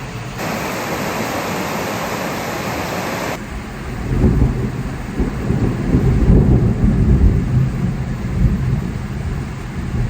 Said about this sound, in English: Sounds brutal on the metal roof, but it's just a sprinkling.